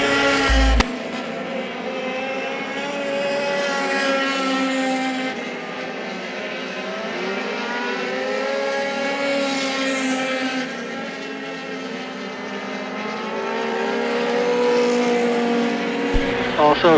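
Race cars roar around the oval at Hagerstown Speedway, a continuous loud engine drone that rises and falls as the pack passes, layered with several revving motors close by.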